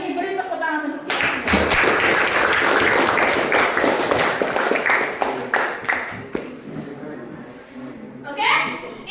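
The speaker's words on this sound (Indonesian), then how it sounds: "Beri tepuk tangan untuk kita" A school class breaks into applause at the end of a lesson, a dense burst of clapping with scattered sharp claps and children's voices mixed in, tapering off near the end as a teacher's voice returns.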